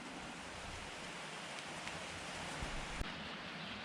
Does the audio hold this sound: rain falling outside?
yes